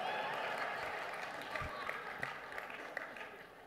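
Applause from a political rally audience at the Iowa Freedom Summit, a steady wash of fairly faint clapping that continues throughout with a few sharper claps.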